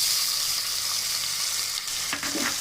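Chopped onion and green chili frying in hot oil for chicken salna, a loud continuous sizzle heard up close with a few stirring scrapes near the end and no talking.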